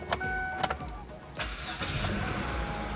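A used car at a dealership in Aktau is started, giving a few short clicks and cranking bursts followed by a low, steady idle rumble, close and moderately quiet, with no voices.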